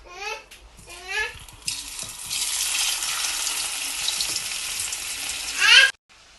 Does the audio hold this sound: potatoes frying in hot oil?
yes